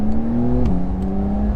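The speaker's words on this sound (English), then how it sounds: "You can hear that engine" A 2020 Porsche 911 Carrera S (992) with a turbocharged engine pulls away from a stop, its loud steady engine note rising and then dipping briefly at a gear change before holding on, heard from inside the car.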